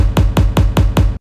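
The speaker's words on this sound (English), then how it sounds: "we switch the kick to super impactful kick" Five punchy, deep kick drum hits at an even, steady pace, each with a heavy low thump and a short decay, in a K-pop dance track.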